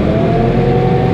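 A vehicle engine revs in a short, loud, steady roar on a farm, heard up close with no voices.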